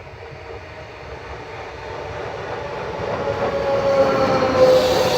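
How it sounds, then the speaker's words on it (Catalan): A train rumbles into Urtx-Alp station, its roar building steadily louder with rattling wheels and a brief high squeal as it draws near. "Arribada de l'últim tren que va cap a la Tort en el dia d'avui"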